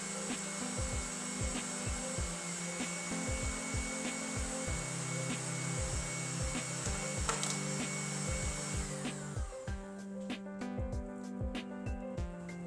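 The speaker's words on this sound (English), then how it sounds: "I choose a grinder. Just load in the meat piece by piece." An electric meat grinder mincing meat pieces for a Chinese cabbage soup broth, a steady motor whine with rhythmic low grinding thumps throughout, close and continuous.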